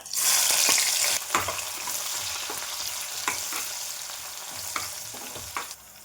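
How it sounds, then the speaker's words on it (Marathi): Cumin seeds and onion dropped into hot oil, a loud burst of sizzling up front that settles into a steady fry, with several stirring clicks and scrapes of a spoon in the pan, close by and without speech. "तेल गरम झाल्यानंतर जिरे टाकायचं, नंतर कांदा टाकायचा"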